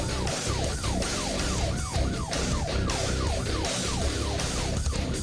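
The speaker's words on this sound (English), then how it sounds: "Probably 4 Tyler Police Department patrol cars running lights and sirens." Several Tyler Police Department patrol cars running sirens during a vehicle pursuit, overlapping wailing sirens sweeping up and down continuously over road noise, loud and sustained.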